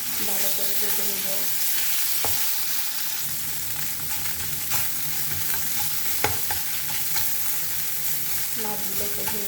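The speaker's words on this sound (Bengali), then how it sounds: "মাছগুলোকে ভেজে দিলাম।" Taki fish fry in mustard oil in a pan, giving a steady sizzle broken by occasional stirring scrapes and clinks, close up and without talk.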